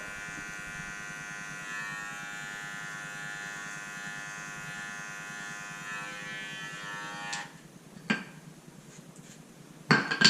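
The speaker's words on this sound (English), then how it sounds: "I close the machine all the way down, and I come and make another guideline right where I did the shape up" An electric hair clipper buzzes steadily at close range while cutting a guideline at a shape-up during a barbershop blowout, then switches off partway through, leaving a few faint clicks and handling noises.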